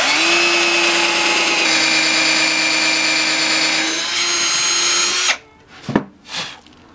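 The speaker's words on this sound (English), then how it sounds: "Now we're going to take the tip of this, put it in the hole, and drill down to the flapper." A power drill bores a hole through a guitar body, its steady close whine running for about five seconds before cutting off, followed by a few brief knocks and handling sounds.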